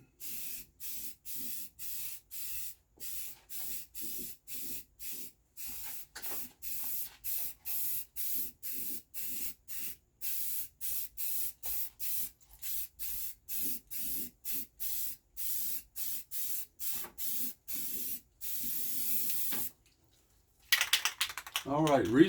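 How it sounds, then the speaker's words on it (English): Repeated short bursts of aerosol spray paint hiss steadily as a backhoe wheel from a tractor loader backhoe rebuild is coated, each burst about half a second with brief gaps, close and loud, ending in clattering handling noise. "the reason I painted the back of the wheel first is so when I painted the front side of the wheel"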